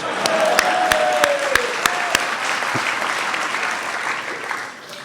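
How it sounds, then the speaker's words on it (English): Applause from the audience at a Wall Street keynote speech, many hands clapping steadily in a large room, with a few sharp nearby claps standing out and a faint voice briefly heard early on, fading slightly toward the end. "let's give her a round of applause"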